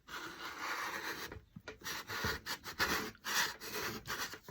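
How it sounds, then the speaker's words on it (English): A putty knife scrapes paint off a door plate in soft, repeated rasping strokes, fairly quiet and close, with brief pauses between passes. "I'm going to start scraping"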